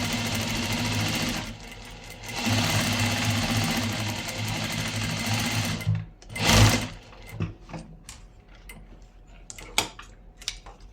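A domestic sewing machine stitches in reverse with a fast, even mechanical whir in two bursts, then stops and gives way to scattered clicks and handling knocks near the close.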